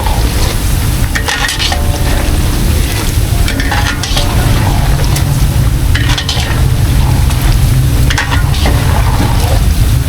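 Bananacue being stirred in sugar that is caramelizing in a pan, a loud steady sizzle with repeated scraping stir strokes, close and with no talking.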